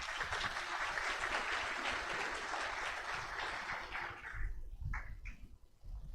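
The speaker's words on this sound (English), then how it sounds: "please give her a hand of applause to welcome her to the stage" Applause from a symposium audience welcoming a speaker to the stage, full and sustained clapping that thins out near the end, followed by a few thumps and light handling noise.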